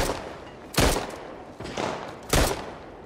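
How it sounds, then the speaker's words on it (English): Gunfire in The Last of Us, a few sharp shots spread across a few seconds with rumbling decay, moderately loud with no talk. "Then you gonna start firing."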